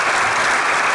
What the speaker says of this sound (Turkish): Anadolu Ateşi'ni alkışlıyorum.